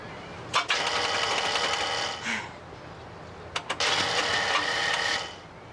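A car engine cranks without catching, its starter whirring in two long, rapid, rattling bursts separated by a short pause, loud and close, with a couple of sharp clicks between the bursts.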